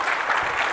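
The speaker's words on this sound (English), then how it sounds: "Those are some exceptional claps." A conference audience gives a short burst of steady applause, moderately loud and continuous, at a JavaScript developer event.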